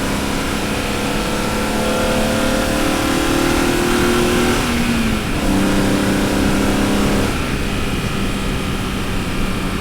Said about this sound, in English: when you start pulling in the revs, when you start rev matching